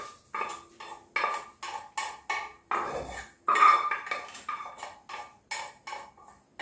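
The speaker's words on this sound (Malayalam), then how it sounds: "എല്ലാം കൂടി ഒന്ന് ഇളക്കി യോജിപ്പിച്ചു കൊടുക്കുകയാണ്" A spoon knocks and scrapes around a metal pot while mutton bone soup is stirred after a mustard-seed and curry-leaf tempering is poured in, giving close, regular clinks and scrapes without any talk.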